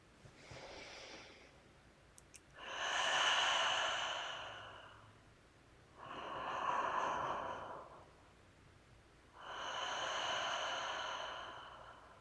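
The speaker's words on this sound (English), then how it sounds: "breathing in through the nose and out the mouth" Slow deliberate breathing, in through the nose and out through the mouth during a guided meditation: three long, soft airy breaths spaced a few seconds apart, close and quiet with no talking.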